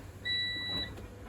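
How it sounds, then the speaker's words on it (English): A Bosch WFP3300 washing machine gives a single clear electronic end-of-cycle beep, steady and moderately loud for about half a second over a quiet room hum. "It's going to beep now in a second."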